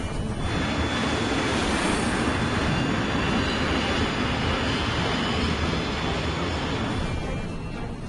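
An airliner in flight gives a loud, continuous broadband engine roar with a steady cabin-like drone and faint tonal whine, unbroken throughout with no voices.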